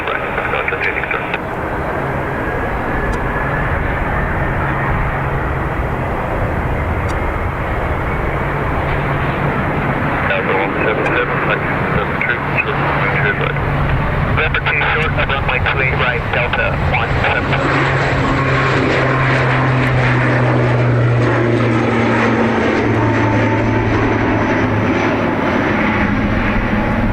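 A jet airliner takes off from Dublin Airport in a long, loud, steady engine roar that builds and shifts in pitch as it climbs away. People talk over the noise throughout.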